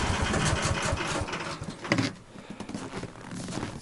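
A Tofalar 500 vehicle engine runs evenly with a rapid, busy mechanical chatter, fairly quiet and continuous, easing briefly before picking up again.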